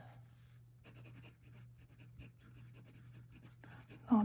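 A fountain pen with a journal nib scratches softly across paper while writing in Monte Verde California teal ink, a faint, close, uneven rasp of short strokes over a steady low hum.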